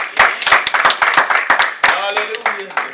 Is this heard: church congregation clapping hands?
yes